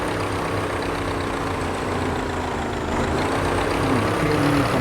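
Delage race car engine in the video game Assetto Corsa, 1931 French Grand Prix at Montlhéry, droning steadily at a constant low rumble with no talk.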